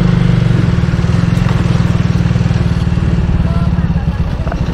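Motorcycle ridden along a rough, potholed road, picked up by a GoPro Hero 8's built-in mic: a loud, steady, close engine drone with a rapid pulsing rumble throughout, plus occasional knocks from the bumpy surface.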